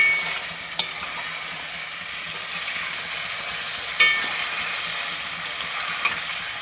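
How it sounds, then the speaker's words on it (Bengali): Chicken pieces with Kashmiri chilli sauté in a pan, making a continuous, even sizzling hiss broken by three brief scrapes of a stirring utensil. "কাশ্মীরি মির্চি, তো চিকেনটা কিছুক্ষণ এইভাবে কষাবো"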